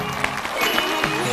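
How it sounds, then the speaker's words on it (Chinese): A studio audience on a reality show panel claps to welcome a guest, a short burst of dense, close applause. "让我们掌声欢迎。"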